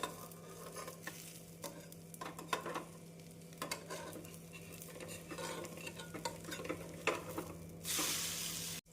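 A carrot and egg omelette fries in a pan and is flipped partway through, giving a steady close sizzle with scattered scrapes and clicks and a brighter burst of hiss near the end.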